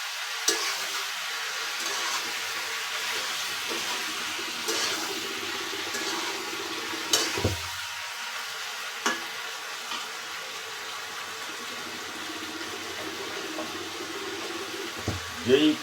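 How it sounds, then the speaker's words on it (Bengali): Catla fish curry with potato and sponge gourd simmers and sizzles in a pan, a steady bubbling hiss with occasional stirring scrapes and clinks throughout, heard alone without talk. "আলু দিয়ে ধুন্দুল দিয়ে কাতলা মাছের তরকারি রান্না করতেছি।"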